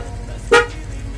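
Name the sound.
motorcycle snail horn honking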